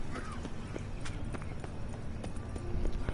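Roach, the horse in the video game The Witcher, runs on hard ground, with a steady run of hoof clip-clops at moderate loudness over a low background bed.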